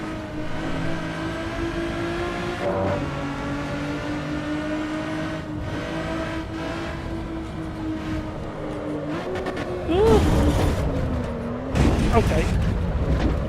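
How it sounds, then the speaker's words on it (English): A V6 race car engine in the video game Assetto Corsa EVO drones steadily under load, pitch shifting through gears, with louder revving bursts near the end. "I know it's a V6, but I'm not keen on the engine sound at the moment."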